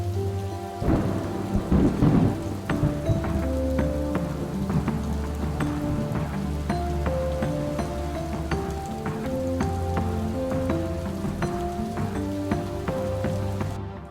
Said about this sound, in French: Pareil, orage, c'est moi qui l'ai rajouté.